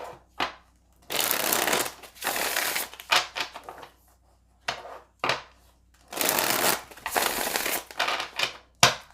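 Crisp, riffling bursts of tarot cards being shuffled, several long rapid flutters separated by short pauses and a few quick taps, close and fairly loud.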